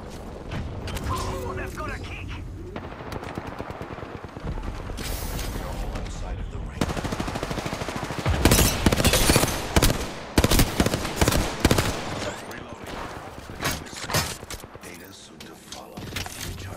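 Battle royale video game firefight with bursts of rapid gunfire and mechanical clicks, loud and dense in the middle, thinning toward the end, with a player talking over the action.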